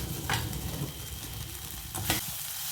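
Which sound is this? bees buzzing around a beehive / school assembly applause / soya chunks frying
soya chunks frying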